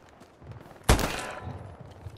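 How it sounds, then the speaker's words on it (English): A single sharp gunshot from the World War II shooter game Hell Let Loose cracks out and rings off in a short tail, with quiet game ambience around it. "we're getting shot at"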